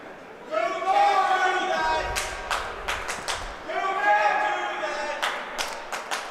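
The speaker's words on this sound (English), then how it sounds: "person in attendance shouting, "You can't do that," and clapping" A single spectator at a high school varsity hockey game shouts in two loud, drawn-out bursts and claps repeatedly and crisply, close by in an otherwise quiet rink.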